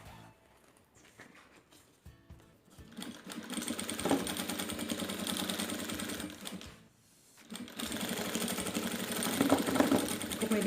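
A sewing machine stitches bias binding around the edge of a diaper bag, running in two sustained bursts of mechanical chatter with a brief pause between them, steady and close.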